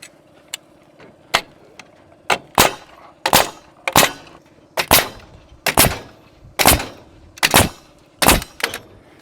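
A pneumatic nail gun fires nails into wall framing for a barndominium build, about ten sharp, close bangs at a steady one-second rhythm after a couple of lighter clicks, with faint background hum between shots.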